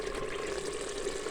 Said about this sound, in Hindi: इसका पानी हम निकाल लेंगे पहले।